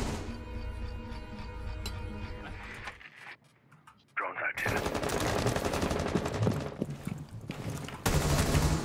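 Rapid gunfire in the tactical shooter Rainbow Six Siege, dense bursts of shots filling most of the stretch with a brief quieter gap in the middle, mixed with players talking over voice chat.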